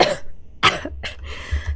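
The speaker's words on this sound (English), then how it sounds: "Stop coughing, I swear." Someone coughs a few times in quick bursts, close and fairly loud, with short, sharp, rough hacks and a bit of throat clearing, recorded indoors during a Lord of the Rings Online gaming stream.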